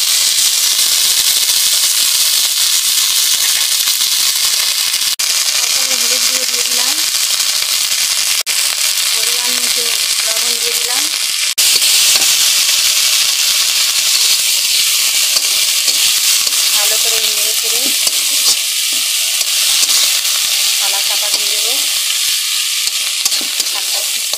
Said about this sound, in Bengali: এবারে শাক ভাজা, নোটের শাক ভাজা